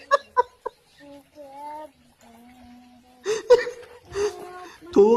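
A chicken clucking in short nasal calls and drawn-out tones, mixed with laughter and voices nearby.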